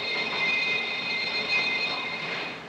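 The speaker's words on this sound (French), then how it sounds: "C'est à peu près ça. Le départ d'un train." A train pulling away, a faint, steady rolling rumble with a thin high-pitched wheel squeal running throughout, heard at a distance with no talking.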